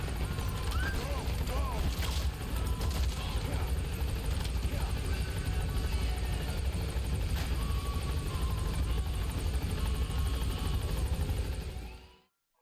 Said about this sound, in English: No, don't shoot the helicopter, we need that.